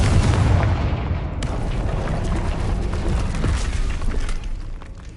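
A Confringo blasting spell explodes in a video game: a deep boom opens, then a rumbling, crackling blast rolls on for several seconds before fading.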